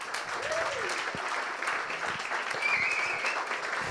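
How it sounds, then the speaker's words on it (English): Conference audience applauding ahead of the speakers at an event on prison survival and the CIA, a steady broadband wash of clapping for about four seconds with a faint voice and a brief whistle-like tone mixed in. "I really would like to ask you first to do an applause to them"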